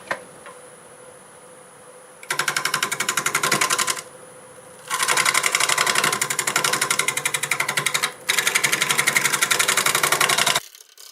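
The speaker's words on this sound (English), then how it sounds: "I'm going to go over this area with a negative rake scraper." A negative rake scraper works a winged plum crotch hollow form spinning on a wood lathe, a loud rapid chattering buzz in several long bursts separated by quieter gaps with just the lathe running.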